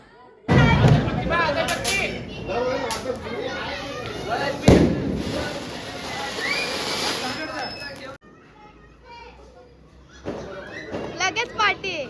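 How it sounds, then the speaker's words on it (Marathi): Diwali firecrackers burst in a string of sharp bangs and crackles, with loud thumps near the start and again around the middle, while people talk and shout throughout and a few quieter pops close it out. "आम्ही अशी फटाक्याची सुरुवात केली"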